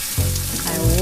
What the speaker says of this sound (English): I love the sound of a good sizzle.